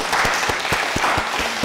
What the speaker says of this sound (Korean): 우리 하나님께 영광과 박수 올리겠습니다.